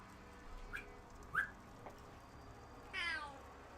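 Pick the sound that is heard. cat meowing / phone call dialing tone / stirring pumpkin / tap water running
cat meowing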